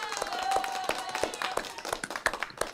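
A small group claps for guests at a music production talk, a handful of distinct close claps rather than a full crowd, with a voice speaking underneath.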